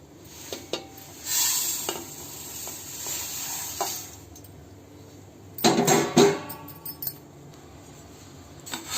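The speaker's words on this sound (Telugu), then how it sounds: "ఇలా కదుపుతూ గరిటెతో వేయించుకోవాలండి" A ladle stirs sesame seeds dry-roasting in a pan, with loud scraping bursts and light metallic clinks between quieter stretches, close by and with no talking.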